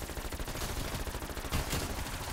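Rapid, sustained automatic gunfire from a gun in Call of Duty zombies mode, a dense, loud stream of shots with a brief heavier burst near the middle.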